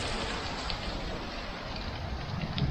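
Driving rain lashes down hard in a dense, constant broadband roar with gusty wind-like texture, close and loud throughout, with no speech.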